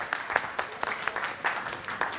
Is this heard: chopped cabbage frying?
no